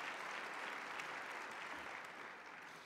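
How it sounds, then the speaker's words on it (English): An audience claps steadily for Stacy Babylon and Beth Fulmer of UMKC, a dense, even round of applause that fades slightly toward the end, with no talking over it. "let's give them a round of applause"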